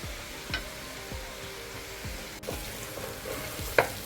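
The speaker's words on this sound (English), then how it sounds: "we're gonna cover and let our onion cook or saute" Onions sauté in a pan with a steady, soft sizzle and crackle, punctuated by a few faint clicks and light scrapes, quiet and close with no talking.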